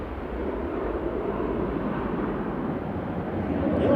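A plane taking off at Manchester Airport, a heavy broad jet roar rumbling low and steady, heard from a distance and swelling slightly toward the end, with no talk over it.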